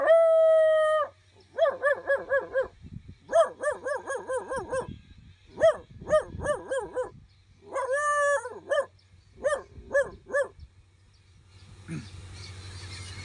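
A man imitates a dog with his voice, opening with a long howl and following with repeated bursts of barks and yelps in uneven groups, loud and close, over a low steady hum.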